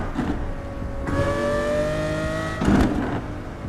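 Racing car engine from the Assetto Corsa sim game played on a rig built from a Volvo, a steady whirring drone with rising revs and shifting harmonics, swelling louder near the end, no talk.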